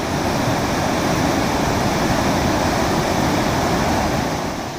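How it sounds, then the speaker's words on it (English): A fast mountain river on the way from Kasol to Tosh gives a loud, unbroken rush of white noise that fills the whole few seconds. It sounds close and steady, with no voices. "In this sunshine and hustle bustle sounds of river, I want to just sit quiet and do some meditation."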